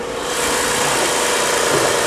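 A Mitsubishi Magna TL wagon with 405,000 kilometres idles with the bonnet open, giving a steady, even engine hum heard close up with no talk.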